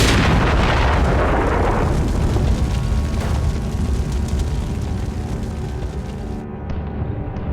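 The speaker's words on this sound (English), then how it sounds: "our tank exploded" A tank exploding in battle during the October War fight for the Golan, a massive booming blast with a long rumbling, crackling decay that slowly fades, loud and alone with no talk.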